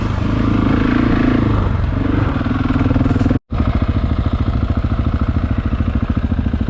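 A KTM motorcycle engine running loud and close in a snowy setting, with a steady rough drone, a brief cutout midway, then a restart into a rapid pulsing idle that carries on to the end.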